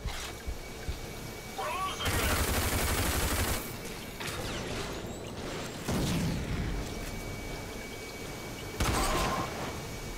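Repeated bursts of gunfire from the shooter game RAGE, heavy volleys coming in loud chunks with short pauses between them, while someone talks over the shooting.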